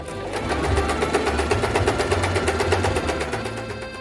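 A sewing machine stitches the fabric sides of a homemade cloth basket organizer, running steadily with a fast, even mechanical whir and rhythmic needle pulses close by, with no talking.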